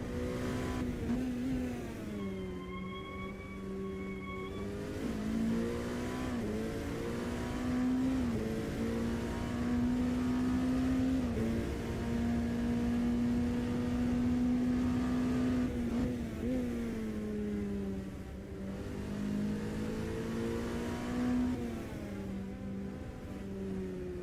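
LMP2 race car engines at Sebring in Automobilista 2, a loud sustained engine drone that revs up and shifts in pitch repeatedly, with another car's higher whine briefly layered on top early on.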